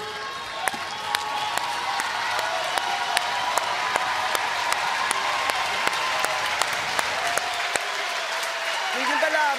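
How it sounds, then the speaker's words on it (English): A baseball crowd at a Little League World Series international championship game rises in a standing ovation, with continuous broad applause and cheering filling the space for several seconds, dotted with sharp claps. "Crowd will stand and give Helmier an ovation."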